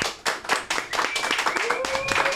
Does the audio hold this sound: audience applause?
yes